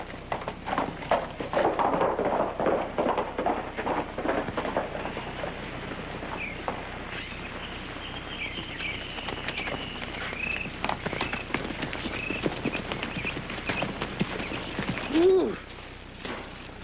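Rapid hoofbeats of galloping horses pound steadily throughout, fairly loud and close, with a rattling, busy texture and no talk.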